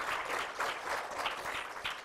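An audience at an art competition awards ceremony claps in a soft, steady round of applause, with no voices, heard at a moderate distance.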